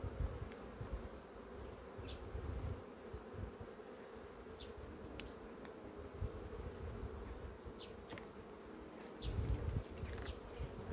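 Honeybees buzzing at a beehive during hive cleaning, a faint steady hum with occasional closer buzzes passing by outdoors.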